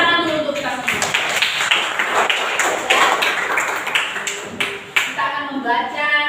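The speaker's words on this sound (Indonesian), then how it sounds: "tepuk tangan dulu untuk kita semua" A classroom of students claps together, uneven bursts of hand claps in quick rhythm, close and fairly loud, with voices chattering through it.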